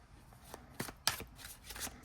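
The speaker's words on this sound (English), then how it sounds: "Let me see if I can even shuffle this." A Gothic Tale tarot card deck is shuffled by hand in a few quick, crisp riffling bursts, close and fairly quiet, with short pauses between them.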